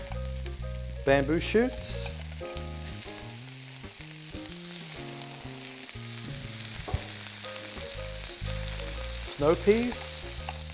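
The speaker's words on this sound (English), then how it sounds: "these are all being sauteed in some canola oil or vegetable oil with some sesame oil added" Vegetables including carrot batonets, halved baby corn, bamboo shoots and snow peas sauté in canola and sesame oil for red Thai curry, a steady sizzle and stirring running beneath background music, with a few words spoken over it.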